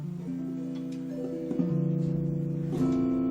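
A rich, jazzy extended guitar chord rings out, with notes layered in and a fresh strum near the end, sustained and clear with no voices.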